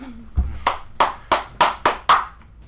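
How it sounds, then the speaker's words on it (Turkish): One person claps alone about seven times, sharp close hand claps in a fairly even rhythm roughly a third of a second apart, with quiet between them. "Tek başıma alkışladım şu anda."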